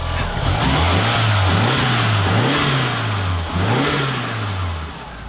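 A turbocharged Mitsubishi engine catches and comes to life, then revs up and down several times in rising and falling sweeps before dropping back, loud and close with no voices.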